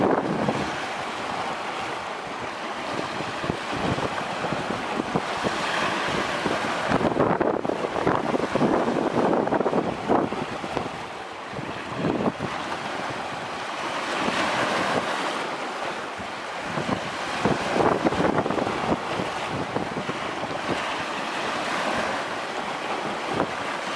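Steady wind roars across the microphone at the seashore while shore jigging, with surf washing in the background, continuous and loud, no voices.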